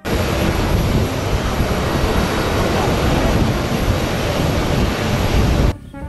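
A toy NASA airplane gives a steady, dense roar like a small airplane engine, running continuously, then cutting off abruptly near the end.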